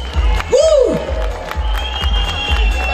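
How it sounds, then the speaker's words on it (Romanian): Crowd at a raffle draw bursting into applause and cheering, a dense wash of clapping with shouts and children's voices, with a short whistle-like tone sweeping through near the start. "Hai, aplauze!"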